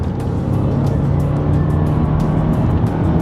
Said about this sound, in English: the 2-litre twin turbo engine and the response of the fantastic 8-speed gearbox